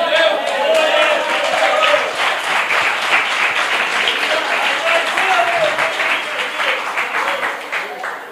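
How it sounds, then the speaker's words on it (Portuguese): Sustained audience applause fills a church, dense clapping from many hands at a steady level that fades slightly toward the end. "Você notou as palmas aí, Romário?"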